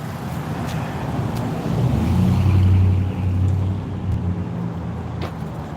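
Loud cars passing through a residential neighborhood, a rumbling engine drone that swells to a peak midway and then fades, with a few sharp clicks over steady road noise.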